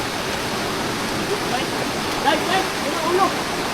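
Steady broadband roar of rushing water from a waterfall close by, with faint voices briefly audible beneath it.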